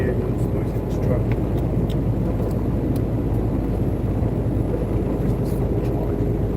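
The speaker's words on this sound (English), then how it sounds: "Really can't hear you. It's noisy in this truck." Steady, loud engine and road rumble fills the cab of a moving truck, a dense continuous low drone with broadband hiss throughout.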